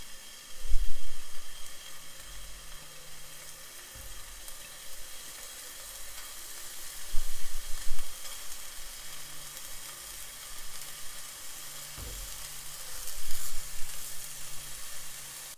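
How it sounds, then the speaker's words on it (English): Vegan Swedish meatballs pan-fry in a continuous, close sizzle that swells and fades as they are moved around the pan, with occasional soft knocks and a low hum underneath. "we're going to pan fry them until just barely cooked"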